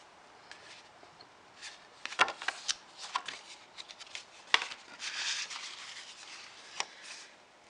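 Homemade paper cards made from a paper pack are handled and shuffled, giving soft papery rustles and a few sharper flicks and taps. The sounds are close and fairly quiet, with no talking.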